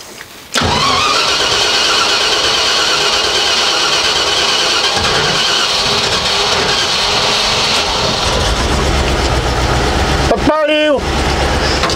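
A Land Rover Discovery long left unstarted cranks and catches, then runs at a steady, loud idle for several seconds before a brief burst of revving near the end; voices talk now and then over the engine.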